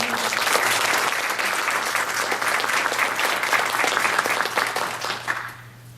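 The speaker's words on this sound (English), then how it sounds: "A round of applause for Asha." A crowd at a Girl Scouts of Southwest Texas event applauds a cadet heading to the podium, loud sustained clapping from many hands that fades out near the end.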